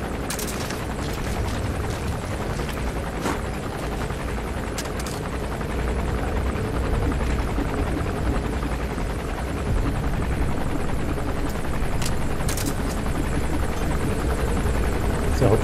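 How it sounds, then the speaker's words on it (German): A helicopter flies low in the video game Metal Gear Solid V: The Phantom Pain, its continuous loud rotor drone filling the scene with scattered gunshot-like cracks and bursts. "Ist der Hubschrauber gerade im Tiefflug?"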